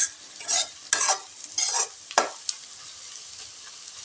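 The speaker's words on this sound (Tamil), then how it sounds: "எண்ணெய் கொஞ்சம் சேர்த்து விட்டாக்க மசாலாவோடைய வெங்காயம் நல்லா செவக்க வதங்கி வருங்க" Onions and masala sautéing in oil for a boneless goat head fry, loud close bursts of stirring and scraping over a soft background sizzle.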